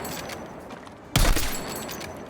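A sniper rifle in the video game Battlefield 6 fires a single loud, sharp report that cuts through a low, steady background and decays over about a second.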